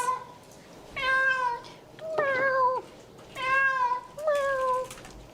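A large, heavy cat that is still wet gives four drawn-out meows in a steady back-and-forth pattern, loud and close, heard through a played cat video with faint background noise.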